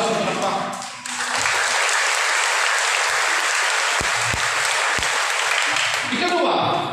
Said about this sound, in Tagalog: Mas malakas sa palakpak.